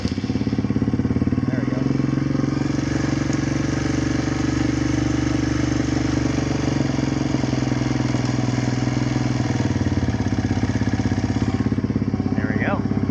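A Kawasaki KLX140 dirt bike engine fires up and settles into a steady, loud idle after an idle-screw adjustment, with a brief spoken comment over the running engine.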